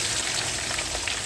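Onion frying in hot oil with green and black cardamom, bay leaf and cinnamon, a dense close sizzle with small crackles for a brief moment.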